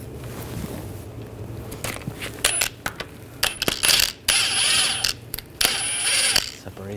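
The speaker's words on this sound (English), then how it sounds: "I'm just going to use a puller that lines up." A puller tool works against the lower ball joint of a 2014-2018 GMC Sierra 1500 front lower control arm, giving close metallic clicks, ratcheting bursts and scraping clanks in irregular rhythm.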